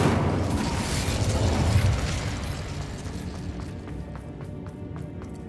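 A fiery Incendio spell cast in the Hogwarts Legacy video game, a dense roaring burst of flame that starts loud and gradually eases off, with faint crackles in the tail.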